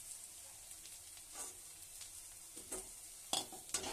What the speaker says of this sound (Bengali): আর বাকি যেগুলো আছে এইগুলো ভালো করে ভেজে নেব।